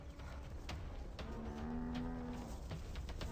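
African buffalo in a herd low with deep drawn-out moos, one clear call rising over a noisy, rumbling background.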